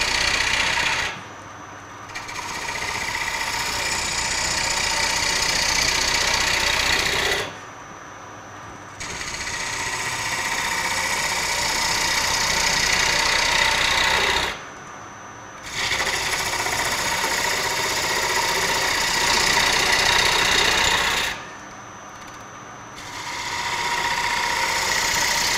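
A gouge cutting into the interior of a walnut bowl spinning on a lathe, a loud steady buzzing hum broken into four long passes by short quiet pauses, with no voices.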